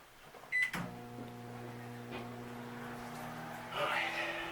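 A running microwave oven gives a steady low electric hum with a faint whine, joined by a brief clunk near the start and a rise in noise toward the end. No one speaks.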